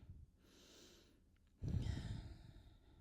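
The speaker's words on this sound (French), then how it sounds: "On prend quelques respirations dans cette position." Slow, audible breaths drawn in and let out while holding a pose in a full-body warrior yoga session, quiet and close, with one deeper exhale sighing out partway through.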